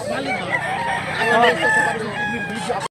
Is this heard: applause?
no